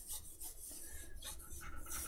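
Sandpaper rubbing on wood during pyrography, close and quiet, in short repeated back-and-forth rasping strokes with a soft, uneven rhythm.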